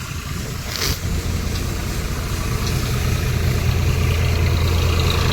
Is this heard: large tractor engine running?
yes